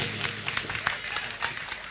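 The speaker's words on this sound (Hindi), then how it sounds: "पहले तो तालियां बजा दीजिए एक बार उनके लिए" Scattered audience clapping at a mushaira poetry gathering in Meerut for the poet, light and irregular hand claps at moderate distance, thin rather than a full ovation.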